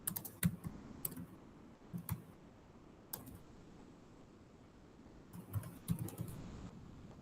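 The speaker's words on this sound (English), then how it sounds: "I'm typing it." A computer keyboard clatters in short, sparse bursts of quick keystrokes, with pauses between clusters, fairly close but soft against a quiet room.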